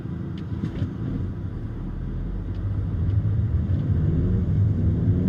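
A 2020 Mercedes-Benz GLB small SUV engine restarting after auto start-stop, heard from inside as a low rumble that swells and settles into a steady idle drone, with no talking.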